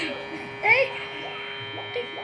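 A Navage nasal irrigation device runs its suction, giving a steady motorized hum with a brief louder surge as talk continues over it.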